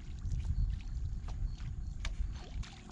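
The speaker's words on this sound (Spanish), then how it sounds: "El corcho lo que hace es ese ruido en la superficie, que es el llamador de los pargos." A plopping cork is worked on the water's surface to attract snapper, giving repeated soft splashing and gurgling plops over steady low water noise outdoors.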